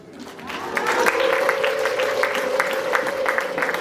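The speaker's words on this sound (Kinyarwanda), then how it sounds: "nimujya mukoma amashyi mujye mushyiramo n'impundu, ngaho nimushyiremo numve" Wedding audience at a Rwandan bride-asking and dowry ceremony breaking into steady, dense applause with a sustained high ululation riding over it, loud and continuous throughout.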